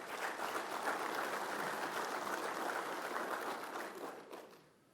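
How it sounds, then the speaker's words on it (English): A meeting audience applauds the central board at a high school athletic association playoff gathering, steady dense clapping from many hands filling the room, then fading out in the final second. "Let's give our central board a round of applause."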